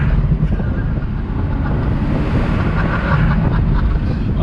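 A Porsche 911 Turbo sports car engine roars and rumbles close by under heavy wind buffeting, steady and loud throughout, with little exhaust burbles.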